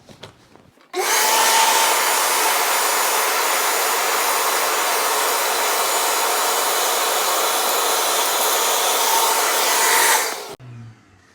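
A shop vacuum runs through a dust stopper separator, switching on abruptly into a loud, steady high-pitched roar of rushing air that holds for about nine seconds before cutting off and winding down.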